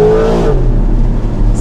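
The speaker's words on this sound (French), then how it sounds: "que c'est pas l'échappement qui hurle, que c'est vraiment le moteur qu'on entend" Porsche 911 GTS with a turbocharged engine revving up, a loud rising engine note that peaks and then settles into a steady, rumbling drone.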